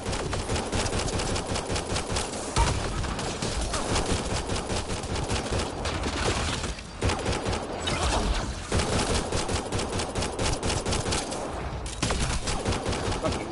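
Sustained automatic gunfire in the video game Mass Effect Andromeda, loud dense bursts of rapid shots with brief pauses between volleys, going on throughout.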